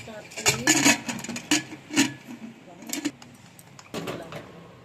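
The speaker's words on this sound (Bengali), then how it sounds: "প্রেসার কুকার আটকে বসিয়ে দিলাম ডালটা সিদ্ধ হওয়ার জন্য।" A metal pressure cooker holding chana dal for boiling is clamped shut and set down, giving a series of close, irregular metallic clanks and rattles. A voice is present underneath.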